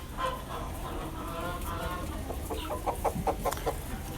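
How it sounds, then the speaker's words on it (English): A bantam rooster in a winter coop gives a quick series of clucks, moderately near, over a low background hum. "this little bantam rooster"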